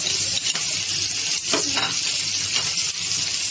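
Garlic sizzling in hot oil with mustard seeds in a pan for Bihari-style daal pitthi, a steady broadband fry hiss with a few soft stirring scrapes, close and continuous.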